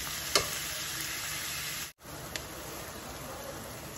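Onions frying in a pan until light golden brown, a steady close sizzle with a brief dropout midway and a couple of small pops.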